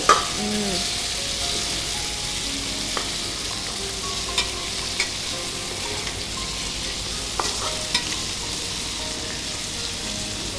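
Steady, close sizzling of prawns frying in a hot pan, with occasional light clinks of a utensil stirring.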